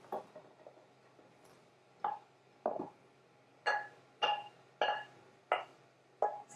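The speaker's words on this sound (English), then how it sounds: "apples are going to go in this little dish here" Sliced apples for an apple crumble drop into a small unbuttered baking dish, about eight sharp knocking thuds in an irregular rhythm, close and fairly quiet, with soft handling noise in between and no talk.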